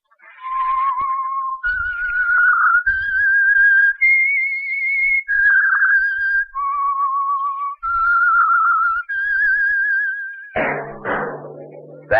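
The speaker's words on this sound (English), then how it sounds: "That whistle is your signal" A melodic whistled theme tune from an old radio program, clear and close, moving through a sequence of sustained pitched notes, ending with a brief burst of different, noisier sound.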